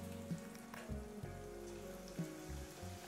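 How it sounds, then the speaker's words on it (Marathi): Grated potato shreds frying a little at a time in hot oil over a very low gas flame, giving a steady soft sizzle with brief crackling bursts, close and fairly quiet. "त्यामध्ये थोडं थोडं करून आपण आता जो बटाट्याचा किस आहे तो व्यवस्थित असा तळून घेणार आहोत"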